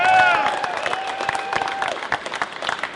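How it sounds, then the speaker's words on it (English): A crowd applauds at a live event celebrating a custom 1957 Mercedes 300SL Gullwing, dense clapping swelling at first with a few whistles and cheers, then continuing steadily at a slightly lower level. "How about a round of applause for BASF for bringing us all together today?"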